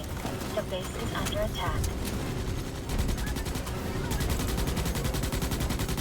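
Relentless rapid gunfire in Starship Troopers: Extermination, dense automatic bursts running throughout at close range, mixed with someone talking over the shooting.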